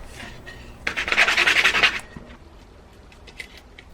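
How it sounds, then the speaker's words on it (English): Wood being sanded by hand to remove splinters and burrs for a homemade pull-up bar: a single loud rasping pass of about a second, close up, between quieter scratches. "I'm going to sand it down a little bit just to make sure there's no splinters or burrs"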